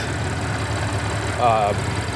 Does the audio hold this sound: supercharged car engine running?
yes